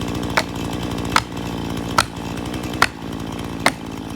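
Husqvarna 440 chainsaw cutting wood, loud and close, a steady engine drone marked by regular sharp bursts roughly every second as the chain bites.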